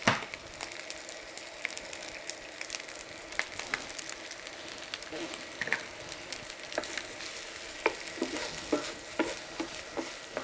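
Egg with ham frying in a pan for a German noodle dish, a steady soft sizzle with occasional sharp crackles and pops throughout.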